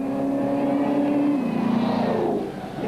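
Rally race car at the Roof of Africa 2000 event revving hard, its engine pitch climbing and then dropping as it shifts and pulls away, loud and close with no talk.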